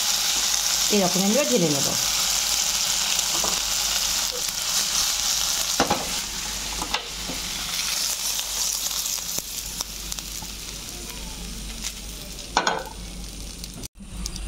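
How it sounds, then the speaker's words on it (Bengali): Okra sizzles steadily in hot oil in a pan, a loud continuous frying hiss running throughout with a few brief stirring clatters, while a person speaks briefly over it. "ঢ্যাঁড়সগুলো দিয়ে দিলাম। খুব বেশি ভাজবো না"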